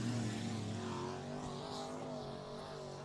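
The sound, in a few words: IMCA modified race cars on dirt speedway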